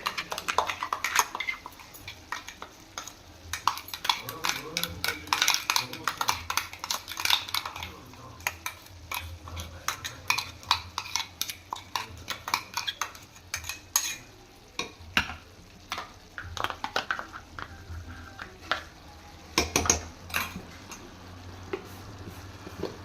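Spinach paste stirred into chicken fry in a pan: steady scraping of a spoon against metal with clinks and a gentle sizzle underneath, close and continuous throughout.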